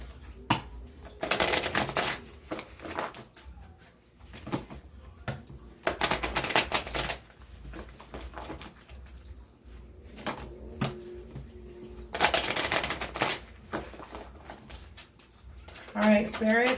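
Someone shuffles an oracle card deck in several bursts of riffling and flicking cards, close and crisp, separated by short pauses.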